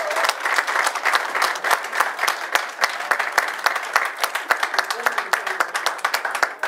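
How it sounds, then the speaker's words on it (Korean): Audience applause at a political party training session fills the room, with dense, steady clapping from a crowd near and loud throughout, without a break. "큰 박수"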